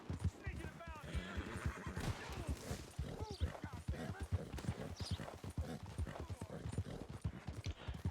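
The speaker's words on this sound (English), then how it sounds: "Where'd this horse come from?" A horse in Red Dead Redemption 2 clip-clops at a steady, brisk rhythm of close hoofbeats with a whinny early on, while someone talks over the hooves.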